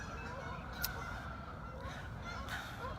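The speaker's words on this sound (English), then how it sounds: "the lake is filled with all these geese coming in from Canada" Canada geese honk on a lake, a few distant calls rising over steady broadband outdoor rumble, with one sharper honk standing out near the start.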